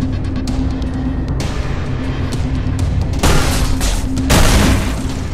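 Video game gunfire and booms, loud bursts over a steady engine-like drone with a couple of sharp louder hits near the end.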